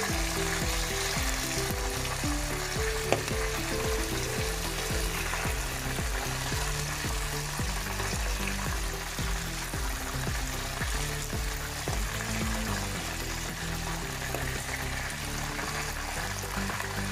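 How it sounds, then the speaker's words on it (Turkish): Sigara börek, rolled Turkish pastries, frying in oil in a pan, with a steady close sizzle and occasional stirring and clinking throughout, and no talk. "gördüğünüz üzere böreklerimiz kızardı"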